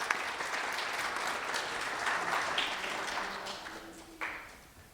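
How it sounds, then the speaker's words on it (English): Audience applause for the young contestants at a speech competition final, a steady wash of clapping from a crowd that fades toward the end with a few last claps. "So maybe a big round of applause again for all our wonderful contestants."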